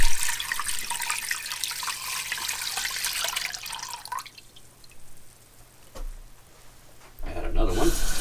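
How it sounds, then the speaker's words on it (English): Lots of water poured into a pot of corned beef in brine, a loud splashing stream that runs for several seconds, thins to drips, then resumes briefly, with a voice talking in the background. "Next thing we're going to do is add lots of water to this."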